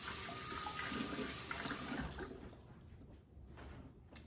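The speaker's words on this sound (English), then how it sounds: "Let me give my hands a quick rinse." Hands rinsed under a running kitchen tap while making salmon croquettes, water splashing steadily into the sink and then thinning out toward the end.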